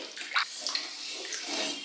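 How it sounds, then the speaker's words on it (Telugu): Water poured from a bottle into a large pot for a two-kilogram chicken biryani, a steady splashing, gurgling pour that runs close and fairly even for about two seconds with no talk over it. "ఇప్పుడు 2 కిలోలకి 3 లీటర్లు వాటర్ బాటిల్తో 3 లీటర్లు యాడ్ చేసేసుకోవాలి."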